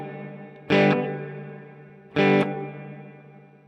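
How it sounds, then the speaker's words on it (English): A guitar runs through the drift effect of an Mvave Mini Universe pedal, giving two short bright strums about a second and a half apart, each ringing out and fading under a wavering, modulated sustain. "what's happening with the drift is that the sound's modulating"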